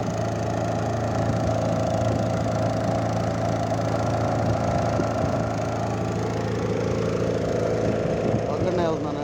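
A boat's motor runs steadily through the whole stretch with a constant mid-low hum and idling rumble, carrying a lone rider on the water toward a hill.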